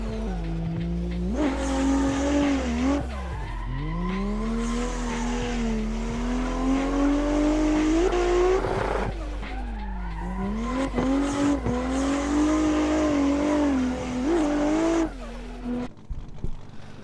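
Sim racing car drifting in a video game, engine revving and falling in long sweeping pitches while tires squeal continuously, loud and close with no talk.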